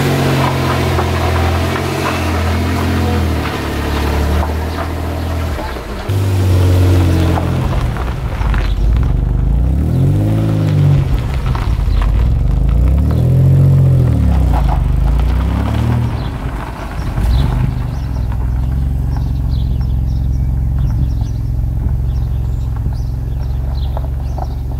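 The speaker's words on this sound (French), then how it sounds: "Un petit tour indique que le moteur est beaucoup plus coupleux et agréable en manœuvre maintenant." A Maserati engine rumbles steadily while driving after restoration work, its pitch rising and falling with acceleration, loud and close throughout.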